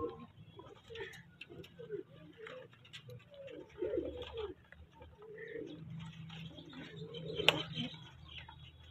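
Red kabra fighter pigeons at a seller's coop give soft, repeated low coos in a quiet space, with someone talking intermittently over them and a sharp click near the end.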